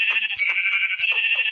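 Sheep in the Minecraft video game bleat in a quick series of short, nasal, wavering calls that come close and clear, one after another with no other sound.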